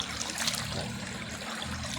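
Water flows steadily in a creek near a house, a continuous close trickling rush with no other sounds.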